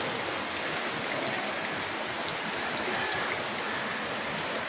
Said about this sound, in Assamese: 9টা বজাত গুৱাহাটীত এনেকৈ পিনপিনীয়া বৰষুণ পৰি আছে।